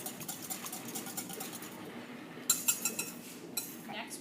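Egg mixture for French toast whisked together with wet ingredients in a bowl, a soft continuous patter of light clinks and taps, then a few sharper knocks of utensil against the bowl.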